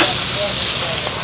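Quail frying in a pan of hot oil gives a continuous, fairly loud hissing sizzle, steady and close throughout.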